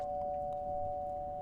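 A doorbell rings inside a video game, heard as a steady sustained electronic tone over a low background hum, with no voices.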